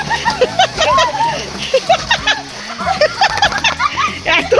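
Dog Lali splashing down into shallow water in a small swimming pool for dogs, with a few close splashes and sloshes mixed with excited voices and chatter throughout.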